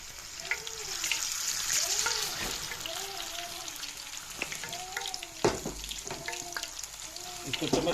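Beef and raw chana dal kofta fry in a pan with a continuous close sizzle and scattered spoon clicks, while a soft voice-like warble rises and falls in the background.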